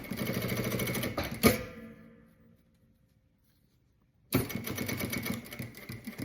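A sewing machine backstitches a zipper onto a bag in a rapid mechanical stitching burst that stops abruptly, leaving near-silence for a few seconds before the stitching resumes just as loud.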